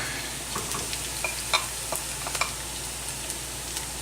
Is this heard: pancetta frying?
yes